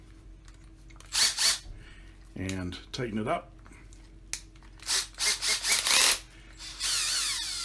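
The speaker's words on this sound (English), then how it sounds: "This is a Dunlop string winder that goes onto a drill." A drill drives a Dunlop string winder attachment on the tuner of a Gibson Hummingbird 12-string acoustic guitar, giving several short, whirring bursts close by, spaced between bits of someone talking.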